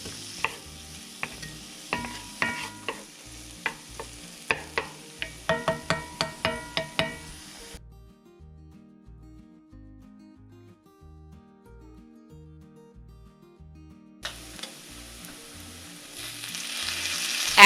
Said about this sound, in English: Saute your onion until it's soft and it starts to brown a little.